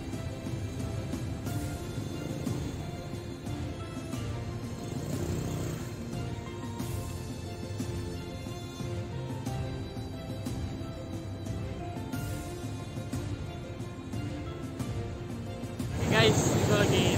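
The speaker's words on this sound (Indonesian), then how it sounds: "gue lagi naik motor nih" Motorcycle ride through southern Banten, Indonesia, with steady engine and road rumble running throughout under a talking rider, rising a little louder near the end.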